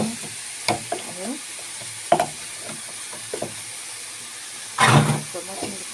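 Tomatoes drop into a hot frying pan and sizzle, with scattered stirring knocks and clatters, a burst of louder hissing near the end, and someone talking intermittently over the cooking.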